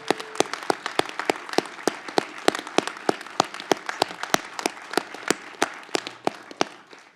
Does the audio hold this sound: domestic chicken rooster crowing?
no